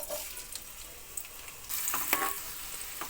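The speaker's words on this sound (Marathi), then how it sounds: "तेल चांगलं गरम झाले. आता यामध्ये कांदा घालून घ्यायचा." Chopped onion drops into hot oil in a pan and bursts into a loud, steady sizzle and crackle, close by, with no talking; the frying is for egg fried rice.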